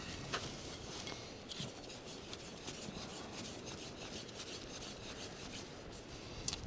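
Faint, close rubbing and scraping as an MC-750 antenna element is screwed onto its base, a soft continuous rasp with a few tiny clicks, no talking.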